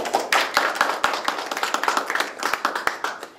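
An audience at a Seoul public forum on Yongsan base environmental pollution claps to welcome a speaker, a brisk burst of many hands with sharp individual claps standing out.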